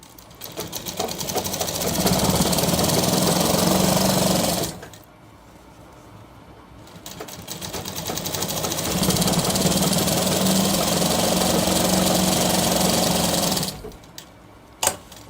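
A sewing machine double-stitches a shirt in two long, steady runs of loud mechanical chatter, with a brief quiet pause between them and a short stop at the end.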